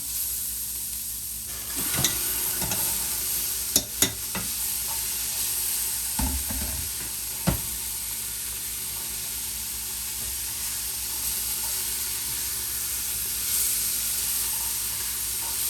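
Quinoa and beans sizzle steadily in a hot pot for a chili, with a constant frying hiss broken by a few sharp clanks and scrapes of stirring.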